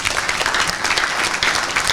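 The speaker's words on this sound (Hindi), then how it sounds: "जोर से ताली बजा दीजिए।" An audience claps loudly and steadily at an interview event with BK Shivani, a dense, continuous wash of many hands lasting the full two seconds with no voices over it.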